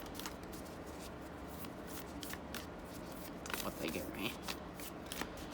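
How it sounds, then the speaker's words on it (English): Oracle cards from a Lover's Oracle deck shuffled by hand, a soft continuous riffling and sliding with a few sharper flicks, close up under a person talking. "And please excuse the shuffling."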